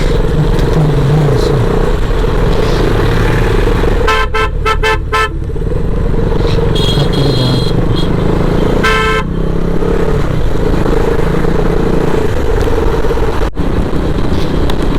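Night traffic jam on the Mumbai–Goa highway near Mangaon, heard from a motorbike: a loud constant engine rumble broken by several short bursts of car and motorcycle horn honking.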